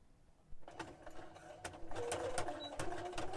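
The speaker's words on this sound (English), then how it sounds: "I hate to put my sewing machine through it." Sewing machine stitching along the crease of a purple and white journal, a fast rhythmic mechanical clatter starting abruptly and running steadily, fairly close, with no speech.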